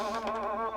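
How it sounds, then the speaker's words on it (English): Flies buzzing close by in a steady, wavering drone that holds for under a second, with no voices. "Them flies are working on my nerves. There they are, all right."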